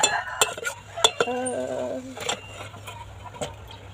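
Chocolate and milk being stirred in a pot over low heat for chocolate-dipped bananas: a utensil scrapes and clinks against the metal in irregular close taps, with a faint hum underneath.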